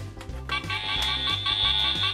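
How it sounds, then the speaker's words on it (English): A toy fire station master alarm from a Playmobil Fireman Sam set sounds a steady, shrill electronic tone with a pulsing, repeating beat underneath, loud and continuous from start to finish. "That sounds just like the master alarm!"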